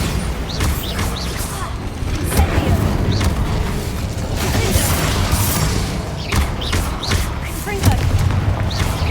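Repeated booming explosions from the Bombarda spell in Hogwarts Legacy thump and crash over a dense, rumbling battle din, loud and continuous.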